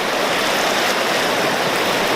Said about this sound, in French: Je vais aller voir la cascade là-bas.